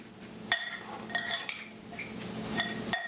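Metal spoon clinking against a bowl while homemade salsa with salt and pepper is stirred, a handful of sharp clinks at uneven intervals over soft scraping, close and fairly quiet.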